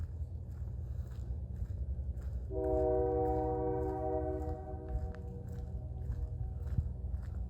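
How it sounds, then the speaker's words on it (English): A train horn blares at night in one sustained chord for about two seconds over a low rumbling hum, then fades back to the distant engine drone. "the train is getting closer and they're still honking their horn in the middle of the night"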